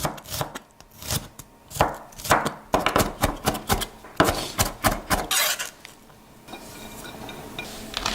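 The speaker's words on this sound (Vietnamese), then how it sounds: "Cắt hành tím và băm nhỏ ra." Rapid, uneven knife chops mincing shallots on a cutting board, coming in close bursts with short pauses, followed by a quieter stretch of softer kitchen noise.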